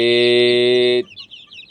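A yellow rooster gives a loud, sustained crow that holds for about a second, then gives way to a few faint chirps close by.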